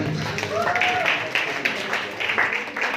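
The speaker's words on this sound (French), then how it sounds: "Encore une fois, applaudissements pour Kéyu 4." Applause from an audience at a French-language inter-university debate tournament in Kenya, greeting the debate team Kéyu 4; the clapping is brief and patchy, mixed with voices and cheering.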